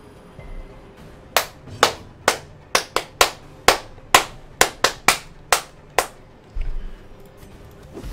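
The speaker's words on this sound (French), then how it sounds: "On applaudit le beau jet de dés." Sharp hand claps ring out one after another in an uneven sequence, about a dozen in all, loud and close with short decays.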